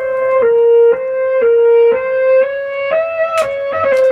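Saxophone sample, a run of sustained reedy notes with clear harmonics, phrased in steady repeated pulses that shift pitch near the end, played alone with no voices.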